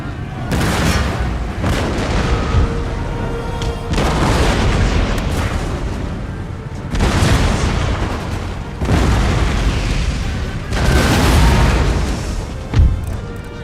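Artillery and musket fire roar through a Total War: Empire battle, with dense rolling volleys and heavy booms arriving in repeated waves a few seconds apart, loud and continuous, with the rumble overlapping throughout.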